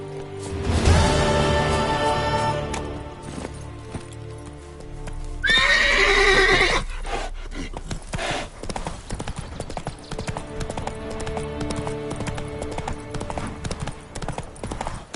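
Roach, a horse in the video game The Witcher 3, gives a loud neigh midway through, with hoofbeats trotting before and after it and some background game sound.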